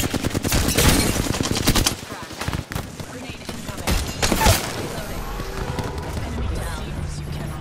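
Rapid gunfire in the Apex Legends video game, with loud bursts of automatic shots and scattered single cracks that fill the scene, mixed with game voices and effects.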